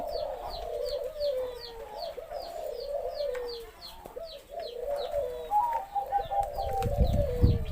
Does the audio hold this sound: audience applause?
no